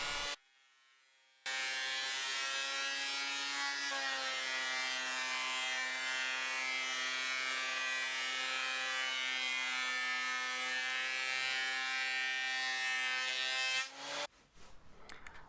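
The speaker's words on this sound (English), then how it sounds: "then I ran it all through the thicknesser to clean everything up" Glued-up wood boards fed through a thicknesser planer, a loud steady motor whine with a strong droning pitch that runs for about twelve seconds before cutting off abruptly.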